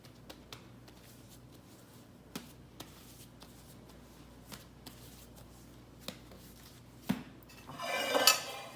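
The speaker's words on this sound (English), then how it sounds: "So we're gonna take 2 9x13 pans." Light metallic clinks and taps scattered over several seconds, close but quiet, ending with a brighter rattling scrape as two 9x13 metal baking pans are moved.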